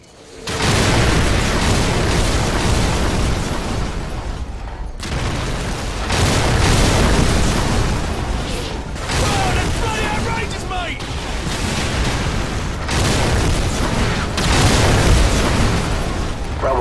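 Heavy artillery strike explosions in Call of Duty 4: Modern Warfare, a sustained series of loud, booming blasts rolling into one another with brief gaps between volleys.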